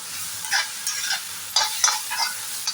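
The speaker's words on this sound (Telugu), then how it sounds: "అదేవిధంగా కొద్దిగా గరం మసాలా వేసుకోవాలి. వేసి వేయించాలి," Amaranth greens and liver fry in a pan with garam masala and ground cumin, giving a steady soft sizzle broken by several short scraping stirs of a spatula, close and moderately loud, with no talking.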